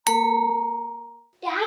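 A mobile phone rings in a stage play with a single loud bell-like ding that rings on and slowly fades. A voice starts speaking right after it.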